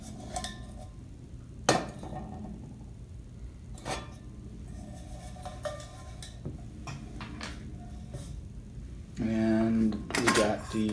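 TOAKS titanium backpacking pots, a 750 ml one among them, are handled and nested, producing scattered light metallic clinks and taps with quiet gaps, then a brief louder rattle near the end; soft talk sits faintly underneath.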